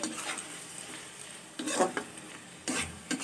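Olive pickle being stirred and fried in a pan, with a steady close sizzle and scraping spoon strokes that come in short louder bursts.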